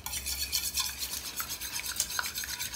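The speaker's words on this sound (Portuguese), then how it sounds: "Então eu vou colocar aqui, ó, os dois ovos. E vou misturar. Não vou bater, tá? Só vou estourar e misturar a gema com a clara." Two raw eggs stirred together in a bowl, yolk and white broken and mixed for a queijadinha batter; soft continuous scraping and clinking of a utensil against the bowl, close and steady, with no voices.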